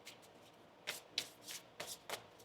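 Tarot cards are shuffled by hand in a quiet room, giving several soft riffling bursts about half a second apart, faint and close, with no talking.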